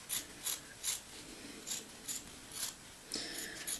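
Scissors snip through two layers of old frame tin material at once, giving a steady series of short, crisp cuts about every half second, close up and alone.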